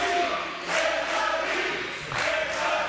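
A wrestling arena crowd in Super Shogun Wrestling roars and swells in waves, a steady broad cheer rising and falling several times, fairly loud and without clear talk.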